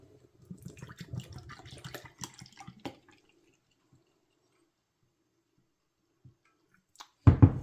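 Raw milk poured from a gallon jug into a cup makes a steady, gurgling liquid stream for about two and a half seconds, then near silence before a loud thud at the end.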